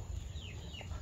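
Chickens on a poultry farm give a short, soft cluck and squawk over a steady low hum of barn background noise.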